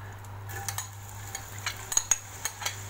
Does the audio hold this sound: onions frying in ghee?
yes